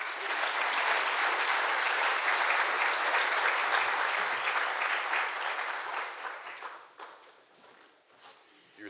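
A forum audience gives sustained applause for an award selection committee, a broad wash of clapping that holds steady and then tapers off toward the end, with a voice speaking near the close.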